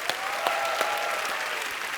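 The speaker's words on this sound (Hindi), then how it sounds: "जोरदार तालियां" Studio audience applause on a Hindi comedy talk show, a loud, dense and continuous burst of clapping with a whistle-like tone running through it.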